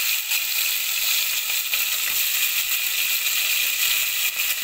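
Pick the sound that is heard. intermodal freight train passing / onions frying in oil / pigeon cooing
onions frying in oil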